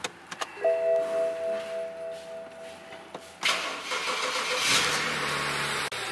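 A car engine cranks and catches after some clicks and a whine during a cold start, then settles into a steady, fairly loud idle nearby.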